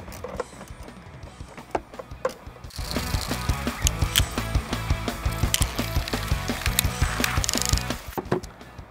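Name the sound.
ratchet removing 10mm bolts from Dodge Durango throttle body box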